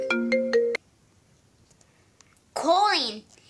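A video game phone ringtone plays a loud, clear electronic melody, then stops; after a quiet stretch a child-like synthesized game voice chirps briefly.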